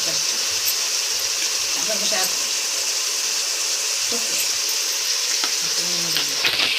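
A vegetable curry with spring onions frying in a pan, a steady close sizzle and hiss with stirring clinks, while someone talks intermittently over it.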